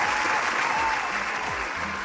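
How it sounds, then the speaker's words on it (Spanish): An audience gives a sustained round of applause for a guest named Silvina on a live show: continuous, dense clapping from a crowd. "Fuerte el aplauso, por favor, para Silvina"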